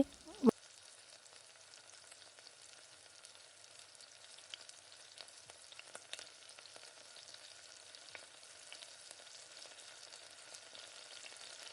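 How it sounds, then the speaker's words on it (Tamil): Onions sautéing in oil for Tamil kara puli kuzhambu give a steady, quiet, even sizzle throughout, with a sharp clatter near the start and a few faint scrapes of stirring. "வெங்காயம் நல்லா கலர் மாதிரி நல்லா வதங்கணும்"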